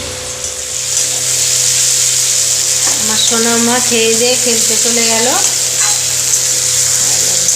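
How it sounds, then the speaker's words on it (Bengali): Chicken spice paste frying in a pan, a loud steady sizzle with stirring scrapes throughout, while someone speaks briefly over it. "চিকেনের মশলাটা কষানো হচ্ছে"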